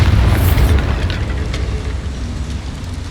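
Bombarda spell blast in the Hogwarts Legacy video game, a loud deep rumbling boom that peaks early and rolls on with a sustained low roar, heard alone without talk.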